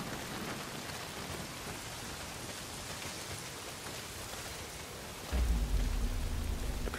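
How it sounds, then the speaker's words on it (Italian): Steady heavy rain hisses through a scene in the video game Days Gone, then a deep rumble of thunder rolls in near the end and keeps going under the downpour. "No, se continua a piovere così."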